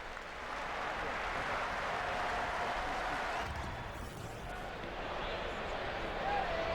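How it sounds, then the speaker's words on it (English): Stadium crowd at a Red Sox–Tigers baseball game applauds Bill Buckner, a steady wash of clapping and cheering that carries on without a break, dipping slightly midway before swelling again. "The applause went on for a very long time for Bill Buckner."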